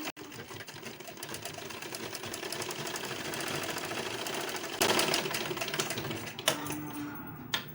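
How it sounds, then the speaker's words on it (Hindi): A sewing machine runs a continuous stitch along blouse fabric, a fast close mechanical whirr that holds steady and briefly surges near the end before a few small clicks. "और अब मैं इसके ऊपर एक सिलाई चला लूँगी।"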